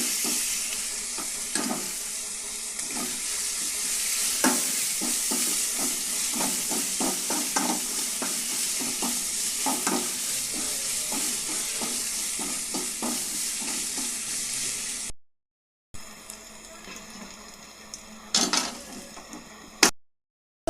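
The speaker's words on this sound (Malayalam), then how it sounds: "ചുവന്നുള്ളിയും വെളുത്തുള്ളിയും പച്ചമുളകും കൂടെ നന്നായിട്ടൊന്ന് വഴറ്റിയെടുക്കുക." Shallots, garlic, green chili and curry leaves sauté in hot oil for a Kerala dal tempering, a steady close sizzle broken by repeated scraping stirs, with a brief cutout and a few sharper clatters near the end.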